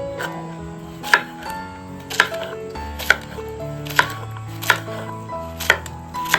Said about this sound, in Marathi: आई सर्व आता हे भेंडे कटिंग करून घेते